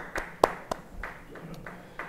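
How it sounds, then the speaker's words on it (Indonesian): Scattered, sparse hand claps from a church congregation during a Bible study: a handful of separate, fairly faint sharp claps spaced unevenly over two seconds, with no voices. "beri tepuk tangan buat Tuhan."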